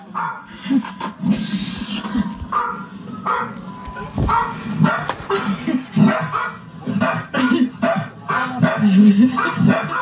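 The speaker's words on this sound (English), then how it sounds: "Uh, Cocker Spaniel." A Cocker Spaniel barks and yips repeatedly in a lively indoor setting at a news broadcast, its barks mixed with voices talking.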